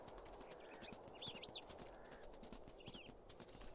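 Paws of a nearby animal thud softly in the WolfQuest wolf game, a faint irregular patter of steps over a steady outdoor ambience, with thin bird calls chirping in the background.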